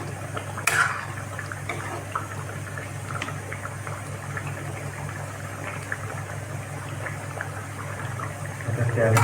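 A pot of taro and broiler chicken curry boiling on the stove gives a steady, even bubbling and simmering hiss, close by and unchanging across the whole stretch.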